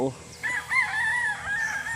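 A rooster crows with a long, bright, wavering call, fairly close, over faint background murmur.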